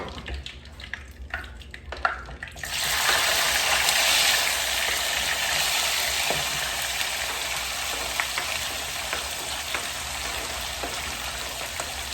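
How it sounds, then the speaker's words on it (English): Jamaican-style seasoning hits a hot pan and sautés, sizzling loudly, a bright steady crackling hiss after a few quieter seconds of clinking. "let the seasoning saute for a little bit."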